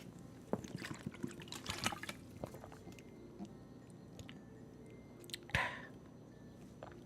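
Water is gulped from a large bottle at close range: quiet sloshing, a few swallows and small clicks, with a brief louder slosh near the end, no talk.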